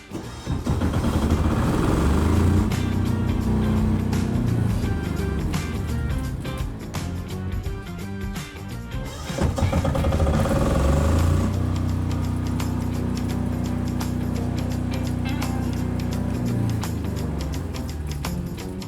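A Philking portable generator engine, remote-started with push start, runs steadily and loud throughout, with a continuous tonal drone and layered harmonics and a brief dip in level midway.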